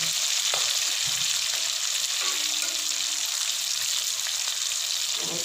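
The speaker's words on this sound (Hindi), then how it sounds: "माशाल्लाह से चिकन अच्छा फ्राई हुआ है।" Chicken pieces fry for chicken karahi in a pan, giving a steady, dense sizzle that holds evenly throughout at close range, with a few faint utensil touches and no voices.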